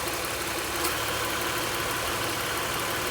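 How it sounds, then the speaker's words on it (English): A 2006 Honda Odyssey engine idles steadily with a new A/C compressor clutch, a continuous mid-pitched hum and vibration with one faint click as the clutch engages, no voices. "You can see the engine is running, the serpentine belt is spinning. Let's see what happens when you turn on the air conditioning."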